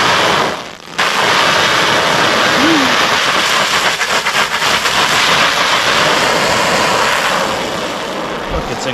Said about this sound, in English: Okay, so we got hurricane force winds here.